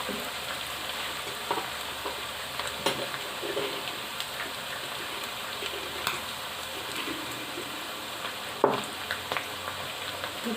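Dry coriander and crushed garlic fry in a pan with meat for bhindi gosht, a steady close sizzle with occasional scraping stirs and a sharper clatter near the end, no voices.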